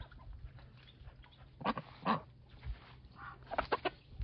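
A dog barks a few times at a distance, mixed with clucking farmyard chickens, fairly faint with quiet background noise between the calls.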